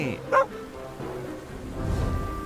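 A dog barks once in the video game My Little Puppy, a single short yip near the start, followed by softer background game sounds.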